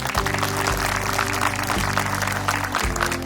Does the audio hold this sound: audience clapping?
yes